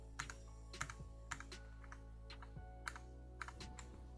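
Keys on an RK61 budget 60% mechanical keyboard are pressed in a slow, irregular series of crisp clicks, close and fairly quiet over a steady low hum.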